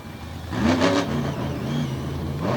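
The Toxic monster truck revs its engine loudly at Lake Erie Speedway during a freestyle run, a close, throaty roar that swells and eases in pitch.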